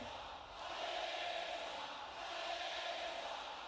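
Wrestling arena crowd at WWE SmackDown cheering for Alexa, a broad sustained roar that swells after the first half second and holds steady, somewhat distant under the building hum.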